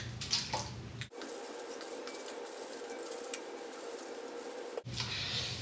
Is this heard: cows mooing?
no